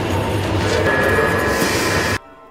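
Inside a moving train carriage, a loud continuous rumbling roar with a faint high whine, cutting off abruptly near the end.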